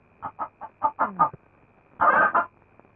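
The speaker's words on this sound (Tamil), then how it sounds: "கோழி." A chicken clucks in a quick series of short, close calls, then pauses before one louder, drawn-out squawk, with no talk over it.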